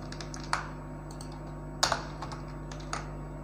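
Arduino code being typed on a computer keyboard at a desk: a steady run of light, quick key clicks with a few louder strikes, close and alone over a low hum.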